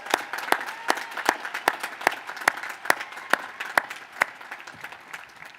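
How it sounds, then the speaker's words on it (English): Scattered, fairly sparse handclaps ring out from a university commencement audience, individual claps distinct and sharp in an irregular rhythm that thins toward the end. "Let's give her one more round of applause."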